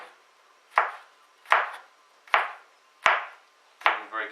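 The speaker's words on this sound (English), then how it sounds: "We're just chopping this garlic" Five crisp knife chops on a cutting board as garlic is thinly sliced, evenly spaced about a second apart, close and clear with no talking.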